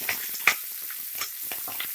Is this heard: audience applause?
no